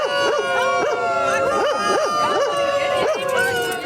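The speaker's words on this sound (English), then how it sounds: "Dogs howling" Several dogs howl in overlapping, rising and falling wails at a crowded winter charity plunge into icy water at a city park beach, loud and close, with yips and crowd noise mixed in.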